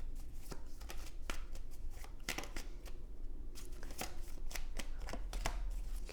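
Tarot cards being shuffled at close range, a run of crisp riffling snaps and flutters repeating irregularly, quiet, with no voices.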